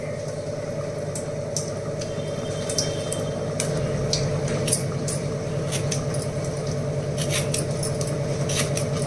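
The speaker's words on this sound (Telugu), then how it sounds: "ఇది ఇప్పుడు చిన్న చిన్న ముక్కలు కింద కట్ చేసుకుందాము" Raw mango being cut into small pieces with a knife in a home kitchen: soft, irregular tapping strokes over a steady background hum and hiss, with no talking.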